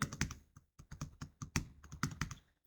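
Keys clack on a computer keyboard in quick, uneven bursts of crisp taps with brief pauses between, close and fairly quiet, with no voices.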